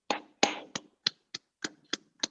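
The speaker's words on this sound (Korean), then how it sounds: "강의에 수고해 주신 강사님들 함께 박수 부탁드리겠습니다." Eight separate, sharp claps land at uneven intervals in an indoor lecture hall, applauding the lecturers at a Korean history lecture; each clap is crisp and clear, with a short ring after the first two and no voices.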